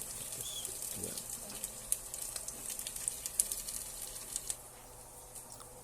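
Chicken sautéing in a pan for tinola, with a soft, steady sizzle and scattered small pops and crackles, fairly quiet and close, with no talk over it.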